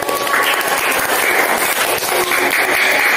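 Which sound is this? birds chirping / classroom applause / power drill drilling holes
classroom applause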